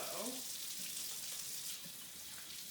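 Tap water runs steadily and faintly as washed hands are rinsed at a sink, a soft even hiss with no clear speech over it.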